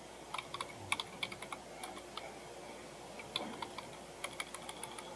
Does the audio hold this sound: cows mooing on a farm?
no